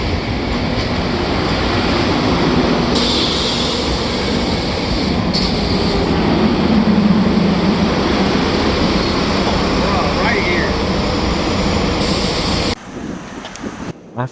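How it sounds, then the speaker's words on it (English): A SEPTA commuter train runs between terminals at Philadelphia International Airport, giving a steady, loud rumble of rolling wagons that holds for about thirteen seconds before dropping away to quieter ambient noise. "the SEPTA commuter train running from terminal to terminal, picking up and dropping off passengers at the Philadelphia International Airport"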